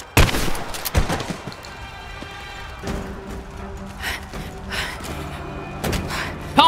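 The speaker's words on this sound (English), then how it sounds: "Pump action shotgun!" Pump-action shotgun blasts in the Rise of the Tomb Raider video game, several loud separate bangs spaced over a few seconds amid game effects and ambience.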